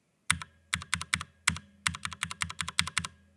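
Keystrokes on a keyboard fitted with lubed Cherry MX Brown switches and switch film, typed in a steady run of about fifteen close, crisp clacks in two bursts, with no talking.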